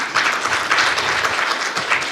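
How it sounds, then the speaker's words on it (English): Dense, continuous applause from a conference audience fills the space, close and loud, a steady wash of many hands clapping with no talk. "let's give each other a hand clap again"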